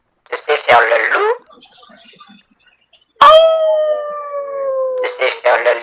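A person imitates a wolf howl: a loud, drawn-out voiced howl that slowly falls in pitch over about two seconds, set between bursts of nearby talking.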